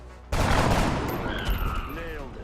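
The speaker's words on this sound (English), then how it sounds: "Run here and gun this guy down." Gunfire from the video game XCOM: a sudden loud burst of rapid shots sets in after a quiet start, then trails off into a fading rumble with some swooping electronic tones.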